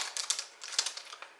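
Quick, clattering keystrokes on a small, non-mechanical keyboard built into a battery-powered writing gadget tap out in an uneven burst, close and fairly soft, with no one speaking.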